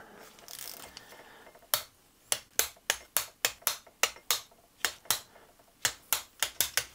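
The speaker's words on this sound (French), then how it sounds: "on va mettre toutes les petites vis là. Et ça, on va serrer à 10 Nm." A torque wrench tightens the small crankcase screws of a Ducati 900 SS engine to 10 Nm. After a quiet start it gives a steady series of about twenty sharp, close clicks, evenly spaced and heard alone.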